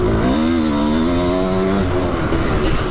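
A 700cc two-stroke dirt bike engine revs at about half throttle, its loud, buzzing note rising in pitch and then dropping back, close by and with no voices over it.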